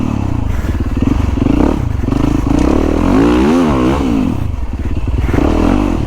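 A Yamaha YZ450FX dirt bike on a motocross track, its engine loud and close, revving up and down continuously with a rising and falling pitch and some clattering.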